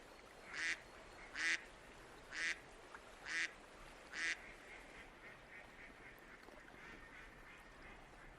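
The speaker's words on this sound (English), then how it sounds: "Mallard ducks within striking distance." Mallard ducks quack in the open in Yellowstone: five loud, evenly spaced quacks during the first half, followed by fainter, quicker quacking further off.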